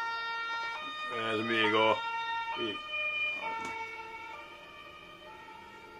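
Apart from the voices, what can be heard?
ambulance siren passing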